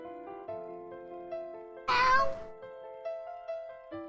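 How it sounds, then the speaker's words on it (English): A cat meows once, loud and drawn out, over soft, steady background music in the fishing video game Reel Fishing: Master's Challenge. "I don't know who meowed, whether he's meowing at the cat or whether the cat's meowing"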